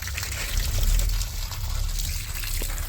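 Water gushes steadily from a garden hose at a spigot in a small-town yard near Mexico City, a continuous close splashing rush with no pause and no talk.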